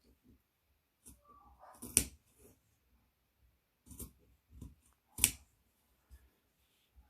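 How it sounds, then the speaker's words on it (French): Scissors cut a window opening into a folded fabric face mask, with two crisp, close snips separated by soft rustling and handling of the cloth. "ici, on vient découper notre fenêtre."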